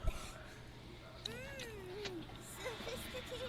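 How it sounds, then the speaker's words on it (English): An angry cat in the animated cartoon Lackadaisy lets out two wavering, rising-and-falling yowls over a low steady hum, the first longer and louder than the second. "Angry cat noises."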